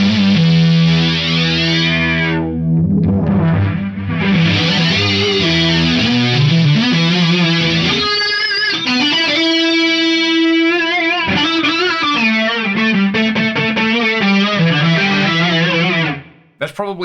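A Boss SY-1 guitar synthesizer runs through its effects: distorted, chorus-laden tones that sweep and shift pitch, with sustained notes and a sudden cut at the end, loud and with no voice.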